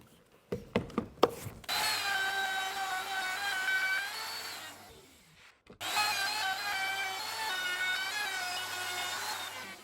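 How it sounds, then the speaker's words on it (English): A handheld router breaks the sharp edges of wooden cabinet pieces for a film set: a few quick knocks, then a loud, steady, high motor whine that cuts out briefly and resumes for a second long pass, with no talking. "I'm just going to break the edges with the router to give that illusion"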